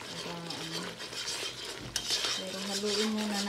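Coconut milk cooks down toward latik in a pan, giving a quiet bubbling sizzle with steady stirring and scraping and one sharp clink of a utensil midway; a faint tonal hum runs underneath and no one talks.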